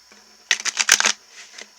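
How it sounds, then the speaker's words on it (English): Tarot cards are shuffled by hand close up, giving a quick run of crisp papery riffling bursts over about half a second and then a few softer card taps, with no talk. "I'm putting cards in front and back."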